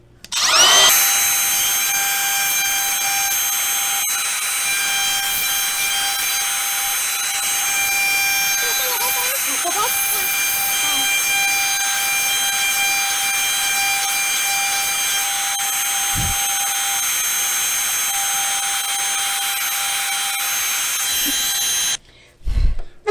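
A router fitted with a 1/8" spiral upcut bit carves a wooden sign freehand, a loud, steady high-pitched whine running unbroken for about twenty seconds before cutting off, with faint occasional talk beneath.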